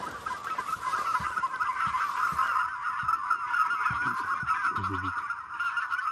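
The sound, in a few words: wild geese honking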